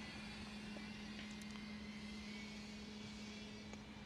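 A DJI Flip drone flies gently over an outdoor track, heard as a faint, steady electric whine with a constant hum and no break in level.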